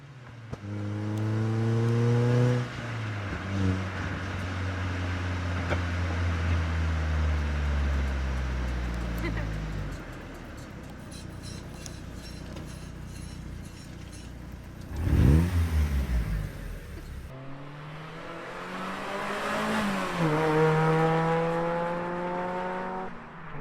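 An NB2 Mazda Miata with a Cobalt mid pipe exhaust accelerates through the gears on a street, with rising engine notes and shifts in between, heard from inside the car, loud and close, with a brief voice partway through.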